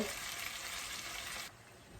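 Loud, close, steady sizzle of small fish and garlic frying in a little pot, which drops abruptly to a quieter hiss partway through, with no voices.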